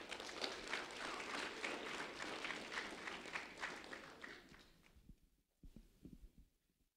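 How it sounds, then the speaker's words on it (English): Applause from a school ceremony audience congratulating a fifth grade student, a steady clapping wash lasting several seconds before it dies away to a few scattered claps and faint room noise. "Ethan Marines, a round of applause for Ethan, please."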